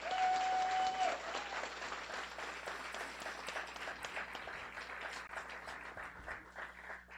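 Sustained audience applause at a Guiding Eyes guide dog graduation ceremony, dense clapping from a large crowd that swells loudly at the start, then holds steady and gradually thins over several seconds.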